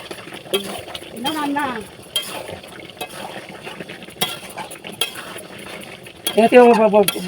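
A spoon stirring chicken curry in a pot gives scattered clinks and scrapes at close range, with brief speech now and then over the stirring.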